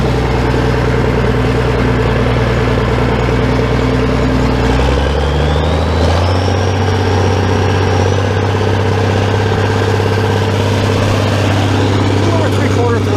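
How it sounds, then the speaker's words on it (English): A Farmall 806 tractor drags a harrow over a dirt driveway at over three-quarter throttle, its engine a loud, close, continuous drone that shifts pitch partway through. "I'm dragging my driveway with the harrow as I come around."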